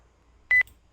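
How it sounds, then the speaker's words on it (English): A single short electronic beep like a hospital monitor tone, one sharp clean blip lasting about a tenth of a second against near silence. "it sounded like a, like a hospital beep"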